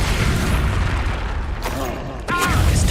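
Expulso spell blast from the Hogwarts Legacy video game, a booming burst over dense continuous game noise and music, with a sharp loud hit near the end.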